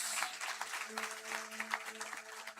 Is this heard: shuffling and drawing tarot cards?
no